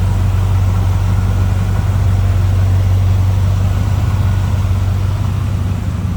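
A 1980 Chevrolet K10 Silverado 4x4 with HEI ignition idles smoothly and steadily at close range, a loud continuous low rumble with no voices over it.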